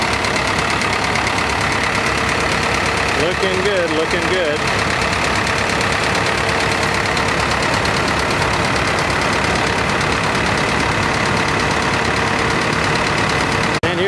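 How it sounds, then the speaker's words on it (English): Diesel tractor engines run at an antique tractor show, a steady, loud, rumbling drone that continues for the whole stretch while people talk close by. "Love the sound of them diesels."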